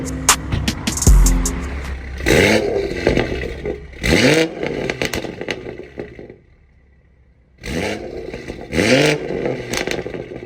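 A loud Scorpion aftermarket exhaust on a BMW M240i revving in several sharp bursts, each rising and falling, with a short quiet gap before two more revs.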